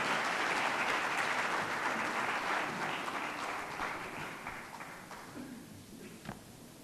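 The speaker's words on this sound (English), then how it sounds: "Please give him a round of applause." Audience applause at a live Ghanaian government event with regional ministers, a broad steady clatter of many hands that gradually thins and fades toward the end.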